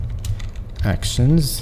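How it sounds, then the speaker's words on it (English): Light clicking keystrokes tap along near the microphone, with a few spoken words breaking in over them partway through. "I'm very sorry about the noise of my keyboard and my mouse."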